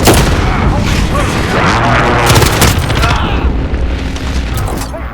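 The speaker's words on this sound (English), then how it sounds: "Be advised, friendly precision airstrike inbound." Heavy, continuous explosions from a precision airstrike in the video game Modern Warfare, a loud, dense rumble of overlapping blasts with game voice callouts mixed in.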